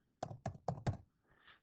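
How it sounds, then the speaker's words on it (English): Four quick, evenly spaced key taps on a laptop keyboard as a password is typed, close and fairly clear, followed by a faint soft rustle. "So from here, I'm going to type in"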